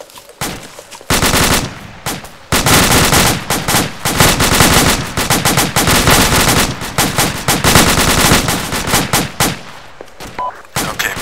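Sustained automatic weapon fire in the military shooter Arma 2, loud rapid bursts of machine-gun fire with overlapping shots and brief pauses, continuing for several seconds.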